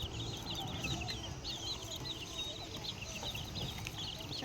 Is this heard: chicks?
yes